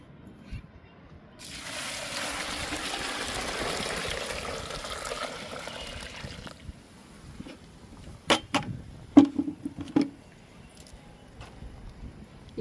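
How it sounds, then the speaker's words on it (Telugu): Water pours steadily into a bucket of cut aloe vera pieces for several seconds, a rushing splash that gives way to scattered drips, knocks and small handling sounds. "అలోవెరా ముక్కల్లో నిండుగా వాటర్ పోసేద్దాము."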